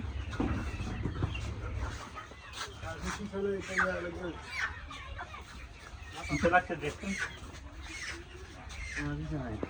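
Chickens cluck at a market, with scattered, fairly close clucks and squawks mixed among people talking nearby.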